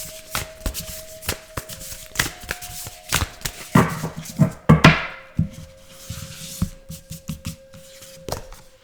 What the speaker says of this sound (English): I need to go on the tarot cards.